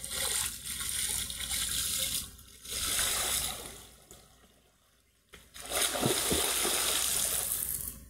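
People bathing in a pond with water lilies, water splashing and sloshing in loud stretches that drop to a brief lull before resuming, close by.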